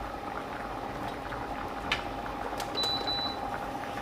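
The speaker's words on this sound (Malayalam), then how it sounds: "ഇപ്പം കറി നന്നായിട്ട് തിളച്ചിട്ടുണ്ട്" White chickpea kurma curry simmering in a pot, a low steady bubbling with soft pops and a faint background hum, quiet and close with no talk.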